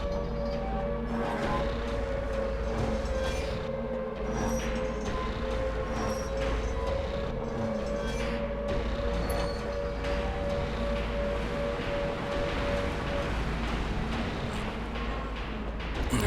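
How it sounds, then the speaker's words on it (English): Sustained siren tone from Silent Hill 2, the video game, a steady, loud wail held for most of the stretch over a dense, rumbling ambient drone. "There's a famous Silent Hill siren."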